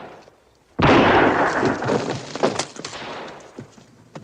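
A single loud gunshot from a large revolver in a western film, a sharp blast followed by a rolling, fading echo and some clatter, with no other sound around it.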